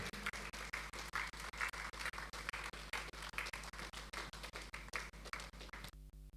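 An audience at a business keynote event applauding to welcome a speaker, a run of steady, rhythmic claps at close range that carries on for about six seconds.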